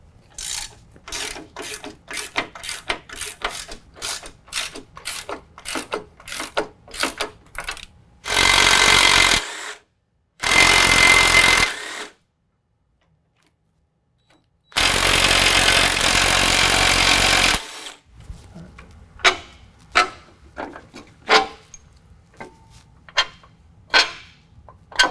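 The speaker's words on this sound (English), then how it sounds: "I'm going to use 18 millimeter wrench and ratchet and go ahead and pull out these 2 bolts here on the driver's side" An 18 mm wrench and ratchet work cross member bolts loose on a 2019 GMC Sierra 1500 during a coilover lift install, rapid clicking ratchet strokes alternating with loud bursts of an air tool, near and sharp.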